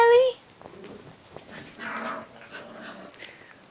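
Six-and-a-half-week-old puppies whimper, opening with one high, clear whine, then softer yips and whines mixed with a person talking to them.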